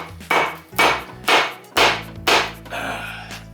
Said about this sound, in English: I should be able to tap this with a hammer.